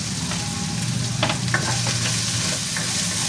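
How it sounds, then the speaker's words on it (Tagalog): Garlic, ginger and onion frying in a pan for an Ilocano chicken dish with bagoong and sotanghon, a close continuous sizzle with a few light scraping stirs. "ng ating bawang at ang ating luya. Lagay na rin po natin yung ating sibuyas."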